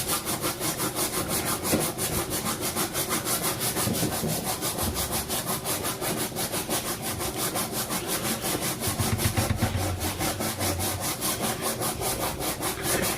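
Thin sandpaper rubbed steadily back and forth while crafting a knife strop, a continuous close, rasping scrape with even rhythm and no speech.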